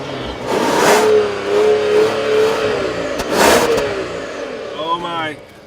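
A 2014 Rolls-Royce Wraith engine revs and accelerates smoothly, its tone rising and falling over a few seconds, fairly close and moderately loud.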